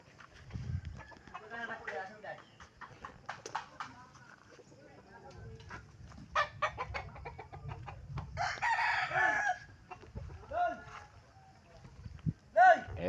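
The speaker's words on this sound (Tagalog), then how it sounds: "Dito tayo sa mga manok namin" Chickens cluck and roosters crow in a farm yard, several crows rising above scattered clucking, with a person talking over much of the scene.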